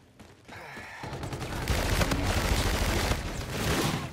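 Heavy sustained gunfire with strong recoil in a Call of Duty: Infinite Warfare beta multiplayer match, building from quiet into loud continuous bursts that carry on to the end.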